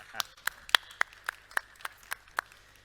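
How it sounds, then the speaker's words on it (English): A sparse handful of claps at a panel session on partnership and leadership, about nine distinct, evenly spaced hand claps ringing out alone against a quiet room. "A round of applause."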